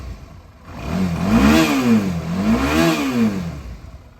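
A 2011 Suzuki V-Strom DL650 motorcycle engine is revved twice, rising and falling in two smooth swells, loud and close, with no talking.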